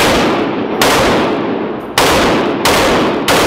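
Single shots from a G3 rifle fired one at a time at an outdoor range, four loud sharp cracks spaced unevenly about a second apart, each with a broad bright burst and echoing tail.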